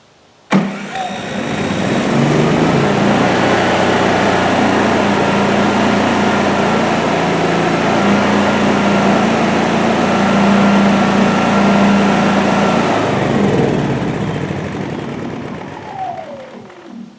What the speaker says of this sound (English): to start the generator, you'd go ahead and press the button for, I believe it's 5 seconds